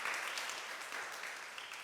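A conference audience applauds steadily, a dense wash of clapping at moderate volume with no voices.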